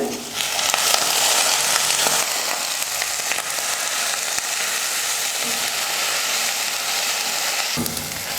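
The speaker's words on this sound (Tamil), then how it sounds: "பச்சை மிளகாய் இது எல்லாத்தையும் சேர்த்து ஒரு 2 நிமிஷம் நல்லா வதக்கிக்கிறேன்" Green chillies sizzle and crackle steadily in a hot pan, a loud continuous frying hiss with occasional stirring scrapes.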